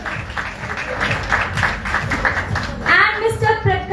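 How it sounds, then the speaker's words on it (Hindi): An audience at a live Bhojpuri film poster launch claps in a steady, moderately loud wave of applause while a voice speaks over it. "प्लीज जोरदार तालियां"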